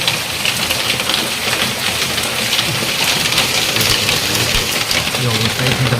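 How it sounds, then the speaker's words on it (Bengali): A heavy nighttime downpour roars steadily and loudly, a dense wash of rain drumming on surfaces close by with no letup. A low rumble sits faintly beneath it. "মাসাল্লাহ খুব সুন্দর বৃষ্টি হচ্ছে"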